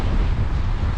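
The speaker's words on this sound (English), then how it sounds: "Windy day today." Gusty wind buffets the microphone on a windy day in Helsinki, a loud, continuous low rumble and rush with no talking.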